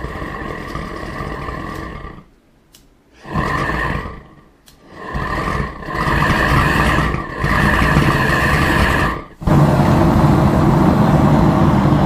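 A gas burner on a gold melting kiln is lit and roars as a loud, steady broadband rush that drops out twice in the first few seconds, then settles into an even, continuous roar.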